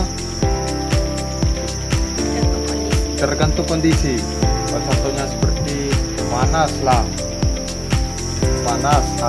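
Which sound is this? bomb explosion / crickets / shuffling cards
crickets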